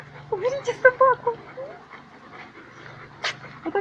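A dog pants heavily during an obedience-training session, with quick breathy huffs and a few whiny tones close by, while people talk in the background.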